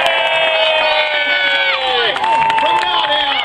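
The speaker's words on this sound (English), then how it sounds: "rave knight of the north, Sir John Nesfield, give him a cheer!" Outdoor crowd at a castle jousting tournament cheering and shouting for a knight, many overlapping voices and whoops, loud and sustained.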